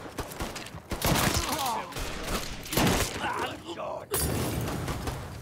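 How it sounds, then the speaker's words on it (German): Shotgun blasts and other gunfire in the crime action game Mafia 3, with dense, loud bursts of shooting and impacts across the whole stretch and someone talking over the combat. "hier drin nehme ich mal ein bisschen Schrotflinten-Action"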